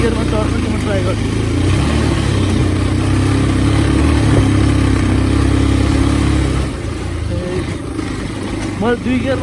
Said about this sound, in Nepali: यो 2 गियरमा चढ्छ कि म ट्राई गर्छु